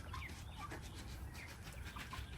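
Broiler chickens in a mobile pasture coop cluck and chirp faintly over steady outdoor background noise.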